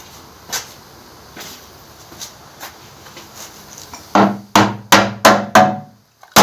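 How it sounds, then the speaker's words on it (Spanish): Several sharp, solid knocks in quick succession from a rubber mallet striking a part of a disassembled Torino seven-main-bearing engine, following a quieter stretch of faint background taps. "Voy a buscar el martillo de goma y vemos si sale."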